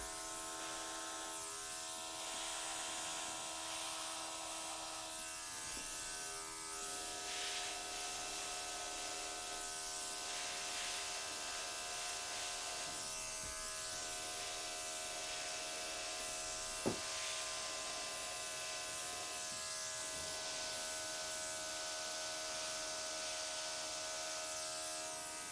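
Air blower pushing wet acrylic paint across a canvas for puddle pour flowers, a steady close whirring hiss that runs unbroken throughout, with faint small knocks.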